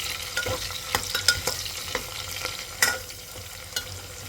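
Sliced onions frying in oil with garlic for a spiced rice dish, with a soft continuous sizzle broken by irregular clicks and scrapes of stirring, close by, no talking.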